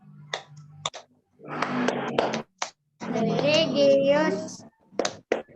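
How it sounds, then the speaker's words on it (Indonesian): A group chants the Tepuk PPK clapping routine at a teacher training session, voices reciting in unison with short sharp hand claps punctuating between the chanted words. "kita lakukan dulu tepuk PPK"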